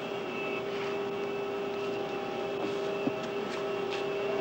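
Steady engine drone of a small propeller airplane heard from inside the cabin, a constant loud hum with a few faint clicks and bumps, no talking.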